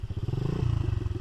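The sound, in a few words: dirt bike engine running and revving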